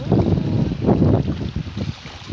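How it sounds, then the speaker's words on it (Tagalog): Sea waves wash against the shore at Los Baños while strong wind buffets the microphone, a loud, continuous rushing roar that surges and eases with each wave, with no talking over it. "Ayan po, kay alon. Napaka-alon. Ang hangin po."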